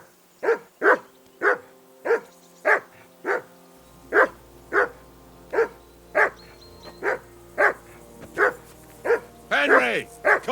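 A dog barks in the video game Kingdom Come Deliverance 2, about a dozen loud, evenly spaced barks in a steady rhythm, close by, ending in a rougher, more excited burst.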